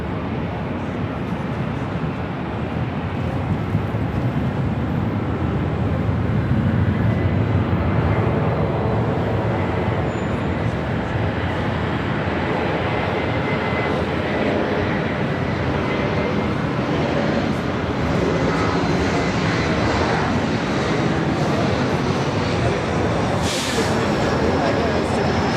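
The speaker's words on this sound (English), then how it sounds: "This is Delta Airlines Flight 2239 heading to SFO in a 737-900ER." A Delta Airlines Boeing 737-900ER jet at LAX rumbles steadily with broad, continuous engine roar, loud and sustained throughout, with faint radio chatter underneath.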